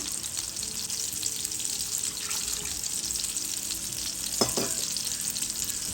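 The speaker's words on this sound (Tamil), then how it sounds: "மசாலா கொஞ்சம் நல்லா வேவுறதுக்காண்டி நம்ம தண்ணி கொஞ்சம் போடலாம்" Water poured into sizzling masala in a pan while making Afghani malai seekh kebab gravy, a steady frying hiss with stirring and a brief splashy burst near the end.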